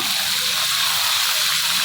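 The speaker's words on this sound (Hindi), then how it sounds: "लाइट ब्राउन होने के बाद इसमें डालेंगे हम थोड़ा सा पानी" Water is poured into a hot cooking pan while making chicken spaghetti, giving a steady, loud hiss and gush that lasts throughout without a break.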